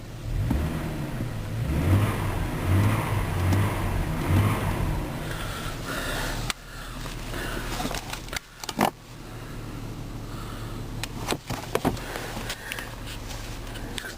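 A 2003 GMC Envoy engine revs in several rising pulses, followed by quieter rumbling mixed with jangling keys and scattered clicks inside the SUV.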